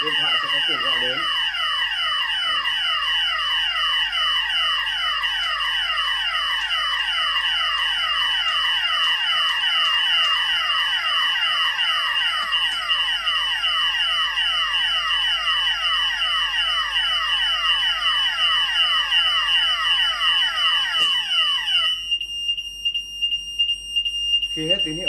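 During a fire cut-off test, a karaoke system's fire alarm bell blares as a loud, fast-repeating sweeping electronic tone for about twenty seconds. It then cuts off, leaving a thin steady tone.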